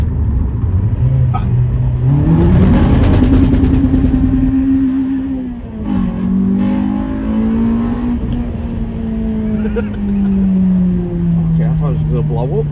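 A Honda VTEC car engine revs and accelerates close by, its pitch climbing sharply, holding high, then dipping at a shift before rising again, with people talking over the engine noise.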